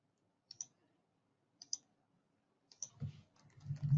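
Sharp clicks on a computer keyboard and mouse, three separate crisp taps spaced about a second apart followed by a faint cluster of softer thumps, quiet and close.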